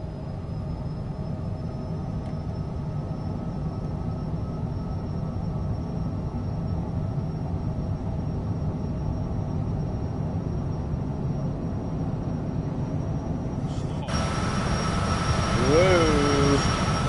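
A heavy jet airliner in a flight simulator game spools up for takeoff with a steady low engine roar, then whines and rises in pitch toward the end of the clip.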